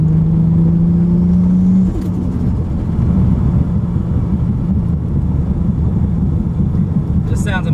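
A loud 800 hp 2JZ-swapped Toyota Altezza with a 3.5-inch straight pipe roars close by with a steady low rumble, a brief higher whine at the start, and crackling exhaust pops near the end.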